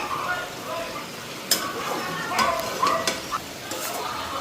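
A home-cooked curry bubbles in an uncovered pot while a spoon stirs it. Soft bubbling runs under scattered clinks and scrapes, with a voice talking over it.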